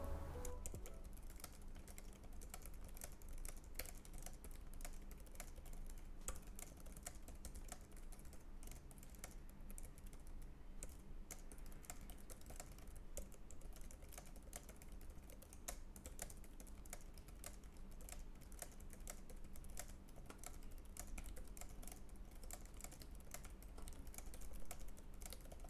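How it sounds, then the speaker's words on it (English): Typing on a pink Logitech K380 keyboard during a typing test, a fast continuous stream of soft, quiet key clicks with no talk. "you can see and hear how the typing is on the Pink K380 keyboard"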